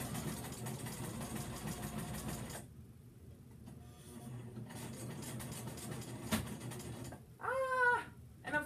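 A sewing machine runs in steady mechanical bursts as it stitches fabric around the edges of a beer koozie, with a short quieter gap and a few clicks near the end.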